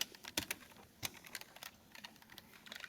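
A computer keyboard is typed on steadily while code is written for a CSS web page, producing irregular close clicks and key taps with brief pauses and no talk.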